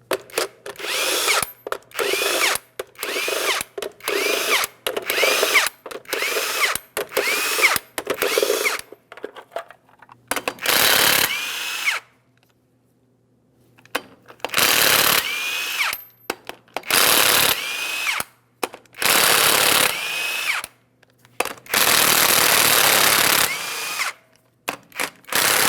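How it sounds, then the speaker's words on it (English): An impact-style power tool zips off 22mm lug nuts from a 2007-2014 GMC Sierra 2500 HD front wheel, loud close bursts of whirring and rattling repeated many times with short gaps between each nut. "we'll remove all 8 of our 22mm lug nuts as well"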